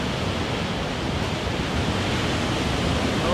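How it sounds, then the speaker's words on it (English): Big ocean waves roll in, a steady, dense wash of surf noise filling the air continuously at close range with no pauses. "those are some big waves, man. And they're heading straight towards me right now."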